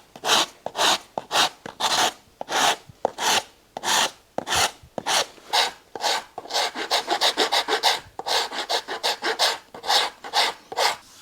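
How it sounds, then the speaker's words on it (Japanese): A hand rasp files the stacked leather heel of a handmade box calf shoe in rapid rhythmic strokes, each a close, bright scraping rasp, speeding into a quicker run in the second half with no talk. "ヤスリで削っていきます"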